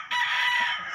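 A rooster crows close and loud in a small backyard poultry pen, one sustained bright call lasting about a second, with no talk over it.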